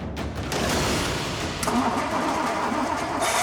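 A classic American car, idle for about two months, cranks and fires up, with starter whir followed by the engine catching and settling into a steady rumbling idle, fairly close and loud.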